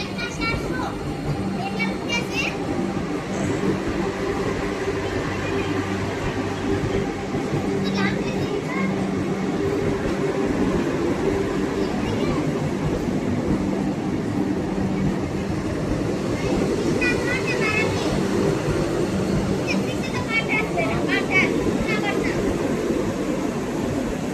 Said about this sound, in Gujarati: રેલવે સ્ટેશનમાં આવેલું ધીમી ચાલે